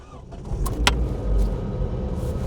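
A Ford Escort Mk6 is started: a couple of sharp clicks and a brief starter whir, then the engine catches into a steady low idle rumble, close by with no talk.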